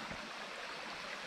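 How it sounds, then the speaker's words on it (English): Creek water rushing toward a tunnel near Moscow, Pennsylvania, a steady broadband wash of flowing stream noise, fairly faint and continuous with no voices. "here we are down at the creek that leads into the tunnel"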